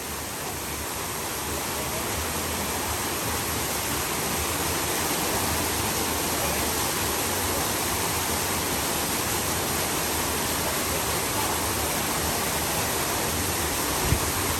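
An indoor waterfall at Casa Bonita in Colorado roars as a dense, steady rush of falling water that stays loud and unbroken throughout, with no talk.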